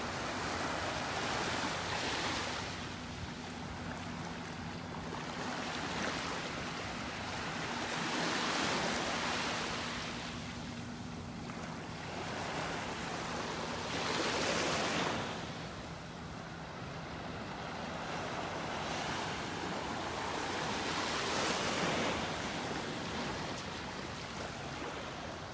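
Small ocean waves wash onto a beach in North Naples, Florida on a calm morning, breaking softly in slow, regular surges every few seconds, faint and alone with light wind.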